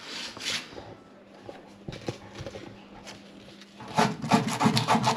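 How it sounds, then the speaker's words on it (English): Timber is sanded by hand with 120 grit sandpaper, giving a close, rough rasping rub in short irregular strokes that grow louder and faster toward the end. "we now just run over it with a bit of sandpaper. I'm just using 120 grade timber sandpaper"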